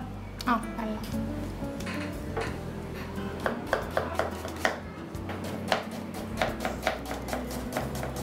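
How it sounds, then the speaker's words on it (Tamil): Onion chopped with a knife on a cutting board, a string of crisp, fairly regular knocks that speed up toward the end, heard up close under quiet talking. "இப்போ நம்ம முதல்ல வந்துட்டு இந்த ஆனியனை கட் பண்ணிக்கலாங்களா?"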